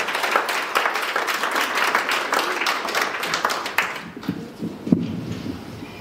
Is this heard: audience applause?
yes